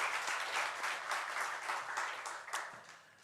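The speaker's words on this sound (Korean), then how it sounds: "우리 하나님께 영광의 박수 올려드리겠습니다" A church congregation claps during a Korean Sunday worship service, a full, even round of applause that swells briefly and then tapers off.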